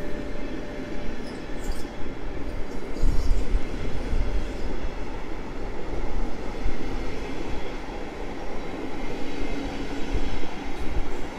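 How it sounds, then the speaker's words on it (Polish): A Koleje Mazowieckie passenger train heading toward Warszawa Centralna rolls past, a sustained close rumble of wheels on rails with faint high squeals, loud and steady with no talk. "pociąg kolei mazowieckich udaje się w kierunku stacji Warszawa Centralna"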